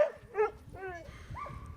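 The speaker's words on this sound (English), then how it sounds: "My dogs are sled dogs." A sled dog gives a few short, close barks and yips in quick succession, a higher whining tone at the end, heard alone without talk.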